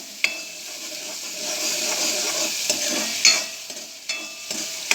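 Soya chunks and vegetables fry in oil with a bright, close sizzle, while a spoon stirs and scrapes against the pan in repeated sharp clicks.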